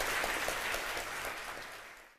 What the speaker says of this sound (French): Vous devriez vous applaudir tous et chacun d'entre vous.